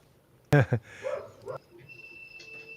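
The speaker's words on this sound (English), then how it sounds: "I'm sorry about the dog barking." A dog barks sharply twice close by, followed by softer whining and whimpering sounds against a quiet background.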